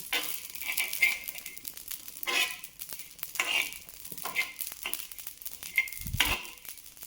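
Ingredients for a homemade churan are stirred as they roast in a pan, giving repeated soft scraping and rustling strokes with light sizzle and a dull thump near the end.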